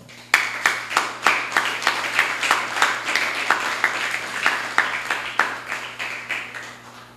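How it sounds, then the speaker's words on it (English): Audience clapping at a school graduation ceremony: steady, evenly spaced claps of roughly three per second, firm and close, continuing without talk. "I pause to ask you to give your parents, guardians, and supporters a round of applause"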